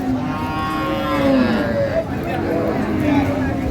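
Sahiwal breed cows at a busy cattle market in Dinajpur, Bangladesh, drawn-out moos sounding close and loud over a constant hubbub of crowd talk.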